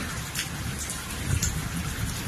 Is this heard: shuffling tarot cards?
no